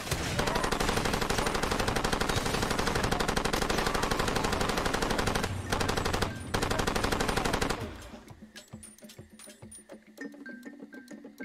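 Sustained automatic gunfire from enemies in Far Cry 2, loud rapid bursts of shots for about eight seconds with a brief gap, then dropping to quieter ambient game sounds.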